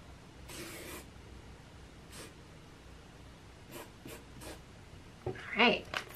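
A pen or pencil scrapes on paper in a few quiet, close strokes with gaps between them, followed near the end by a brief voiced sound.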